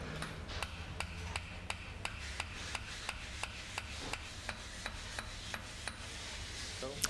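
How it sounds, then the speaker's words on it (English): Split ring being tapped gently into place on a Tesla small drive unit fitted with a Quaife differential, a steady series of light, evenly spaced metallic taps, close and fairly quiet over a low background hum. "we're just tapping it into place nice and gently"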